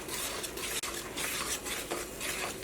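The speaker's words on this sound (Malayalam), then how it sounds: "ഇനി നമുക്ക് നന്നായിട്ടൊന്ന് മിക്സ് ചെയ്യാം" A spoon scrapes and stirs egg roast gravy in a pan, making steady, close metallic scraping with a soft sizzle beneath it and no voices.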